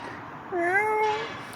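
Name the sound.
cat meowing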